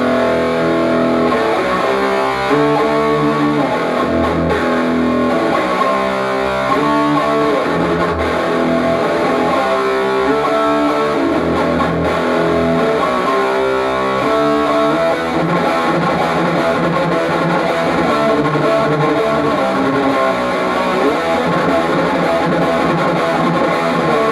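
Electric guitar through a Sinvertek No.5 distortion pedal with the gain raised plays loud, continuous riffs and chords, its crunchy, saturated tone filling the whole stretch without any talking.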